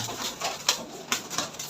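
Lotan pigeons, a feathered-foot heavy-boot breed, coo softly inside a room; faint, intermittent low coos come through with some light scuffling between them.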